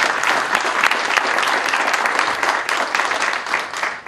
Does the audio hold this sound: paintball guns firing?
no